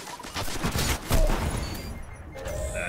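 Rocket fire and explosions in the Destiny video game: a dense, rumbling barrage of blasts and booms with a louder impact midway, continuing as a steady roar of combat noise.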